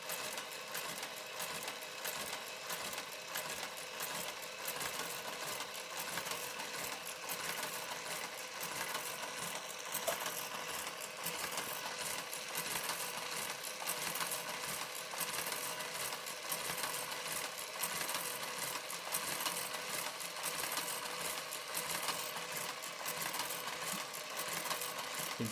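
A Brother KG-95 garter carriage works across a knitting machine, a dense continuous mechanical whirring and rattling clatter that holds steady and loud, with no voices over it.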